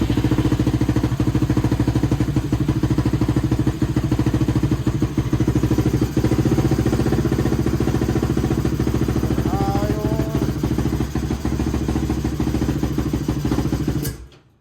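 A Yamaha LTR450 ATV engine runs with a loud, steady, rough idle and mechanical clatter, close by, then cuts out near the end.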